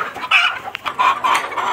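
Sonali hybrid laying hens cluck on a poultry farm, a few loud, close, broken calls in quick bursts with no talk.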